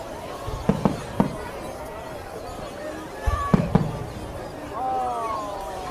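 Fireworks at the 9 p.m. kids' display on Dee Why Beach, Sydney, go off in scattered sharp pops and bangs in small clusters, heard at some distance with faint whistling crackle and low crowd murmur.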